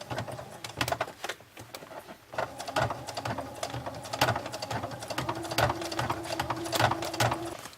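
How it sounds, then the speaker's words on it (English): A domestic sewing machine on a triple stitch setting stitches through a leather bag, giving a steady rapid mechanical chatter that pauses briefly and then runs on, close and fairly loud. "So triple stitch setting is actually quite common on machines, and it is super helpful."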